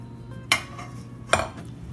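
Hamburger mixture being stirred with a utensil in a bowl, two sharp scraping knocks against the bowl a little under a second apart, close and clear over a quiet background.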